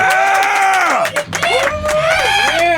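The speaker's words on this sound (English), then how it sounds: "these are all the people in the room who are going to clap really loudly" A few excited voices whoop and cheer with rising and falling 'woo' calls in a podcast studio, sounding close and loud. The cheering is vocal rather than clapping and continues for about three seconds.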